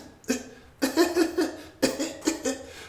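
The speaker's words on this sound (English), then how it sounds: "I started getting that little funny cough" A person coughs in three close fits: a single hack followed by two runs of quick, rough bursts, with no talking.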